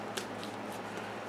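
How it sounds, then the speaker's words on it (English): A deck of tarot cards is shuffled close by, a soft continuous riffling and shuffling with a few light flicks. "let's shuffle these up a bit"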